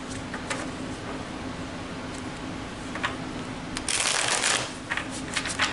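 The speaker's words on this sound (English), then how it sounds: "I want to make sure that I get a good shuffle" Tarot cards are shuffled by hand close up, a steady papery riffling with faint clicks under a low hum, swelling into denser, louder bursts of rustling near the end.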